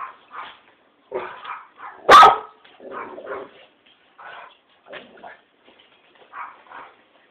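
Puppies bark and yip in short scattered bursts, with one sharp loud bark standing out, all close by with quiet gaps between.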